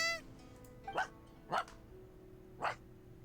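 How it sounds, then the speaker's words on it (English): A dog in Genshin Impact barks three times, short sharp yelps spaced about a second apart over a low, steady background hum. "You think that's Toma barking?"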